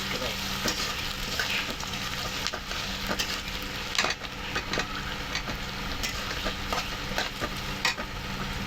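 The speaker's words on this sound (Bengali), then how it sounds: "আমরা দেশি মুরগি রান্না করতেছি, পেঁয়াজ দিয়ে ভুনা করতেছি" Chicken and onions fry together in oil in a pan, a steady close sizzle with frequent scraping clicks as they are stirred, no voices.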